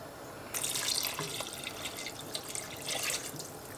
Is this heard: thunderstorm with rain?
no